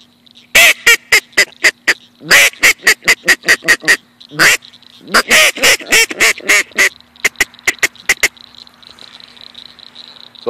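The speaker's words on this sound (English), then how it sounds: "Here is the Duck Commander teal call." Loud, close quacks from a Duck Commander teal call in rapid bursts and runs, pausing between sequences, ending with a few spaced single notes and a faint hiss.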